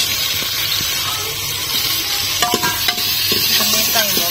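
Tomato and onion frying in a pan in a village kitchen, a steady close sizzle with scraping stir strokes scattered through, no talking.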